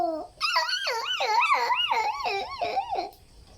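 A young child of about three years uses their voice to imitate a fire truck siren. The wail rises and falls in about seven quick, even cycles, loud and close, then stops.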